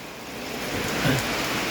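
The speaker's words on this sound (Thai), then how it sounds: "ฝนตกแล้วฝนตกแล้ว" Steady rain falls outdoors, a continuous dense hiss of drops that stays fairly loud and even throughout, with no voices.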